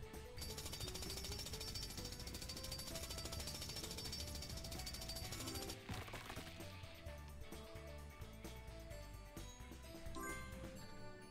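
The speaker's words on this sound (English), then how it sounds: "Time to jackhammer away." Rapid rattling jackhammer in a Paw Patrol video game, played by Rubble, hammering continuously for about eleven seconds over busy game music, with a brief pause midway.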